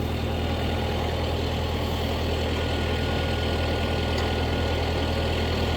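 Tractor engine idling on a farm before loading a hay cutter, a loud steady low diesel rumble held close and continuous throughout with no talk.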